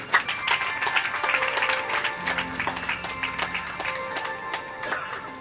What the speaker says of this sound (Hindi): सभी के लिए जोर से आप लोग ताली बजाइए